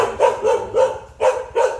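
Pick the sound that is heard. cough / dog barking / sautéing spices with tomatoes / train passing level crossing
dog barking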